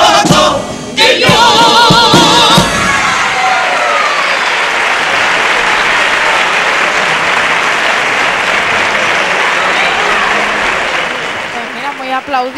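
An audience applauds loudly after a comparsa's opening paso doble at a carnival preliminary, a dense, sustained wall of clapping and cheering that holds for several seconds before easing slightly near the end.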